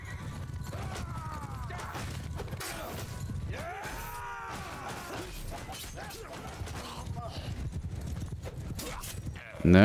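Horses clip-clop and gallop through a battle in Mount & Blade II: Bannerlord, a steady rhythmic hoof clatter mixed with clashing impacts and a brief whinny, while someone talks over the action.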